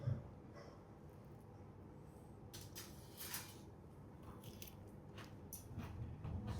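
A few crisp crunching bites into fried food, quiet and close, come in short bursts separated by pauses against a soft background.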